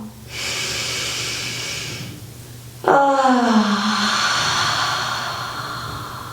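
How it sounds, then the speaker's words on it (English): A slow, deep inhale taken while lying flat on the back in yoga corpse pose, a long soft airy breath followed by a fuller rush of air and a gradual release, close and unaccompanied by talk. "Take an inhale."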